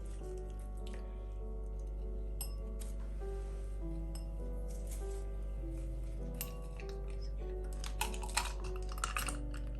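A mango mojito is stirred in a glass, producing quiet, close clinks and taps of the spoon against the glass, scattered and growing busier near the end, over a low steady hum.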